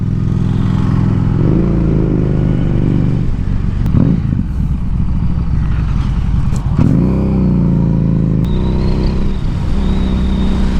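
A Harley-Davidson Street 750 engine rumbles loudly and close, revving up and settling repeatedly as it rides, with deep throaty exhaust pulses and occasional mechanical clatter.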